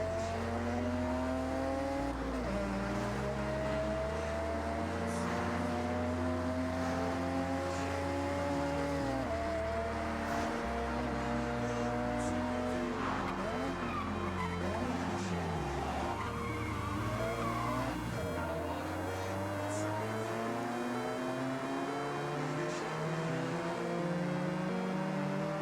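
Second-generation Mazda RX-8 rotary engine in Forza Horizon 6 revving high through repeated rising gear pulls, a loud, buzzy, continuous whine with tire squeal and skidding mixed in, up close and without talk.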